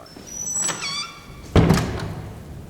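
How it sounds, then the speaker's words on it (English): A large door shutting as a sound effect for the Noah's ark story, opening with a creaking, whining swing before a single heavy, booming thud that lingers and fades, close and loud. "And he shut the door."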